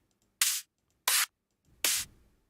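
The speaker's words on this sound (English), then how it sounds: "you can go with the standard psytrance snare sound, and that would sound something like this." Standard psytrance snare drum sample triggered in music software, three bright noisy hits with little low end, each cut short, evenly spaced and heard alone.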